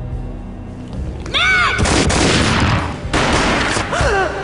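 Gunfire in the video game Max Payne, heavy booming shots with slow-motion whooshing sweeps between them, loud and close, with no talk over them.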